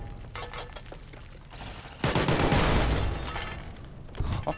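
Automated turrets firing in a modded Fallout: New Vegas game, scattered shots at first, then a loud, sustained volley in the middle that fades, with another short burst at the end.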